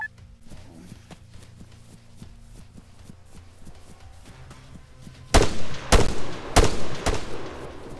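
Rifle gunfire in the military shooter ArmA 3: quiet footsteps and light movement, then three loud, sharp close shots in quick succession, each trailing a brief echo.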